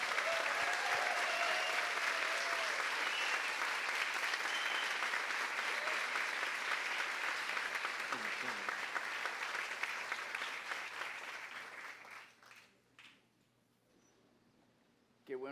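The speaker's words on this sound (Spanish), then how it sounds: "démosle un fuerte aplauso al pastor" A church congregation applauding the pastor, loud continuous clapping that carries on for about twelve seconds before dying away, followed by a quieter pause and a brief sound at the end.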